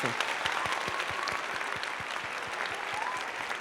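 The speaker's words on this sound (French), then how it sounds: "On applaudit cette nouvelle très bienveillante." Audience applause for a piece of good news on a French celebrity gossip show, dense steady clapping from a crowd that holds at an even level throughout.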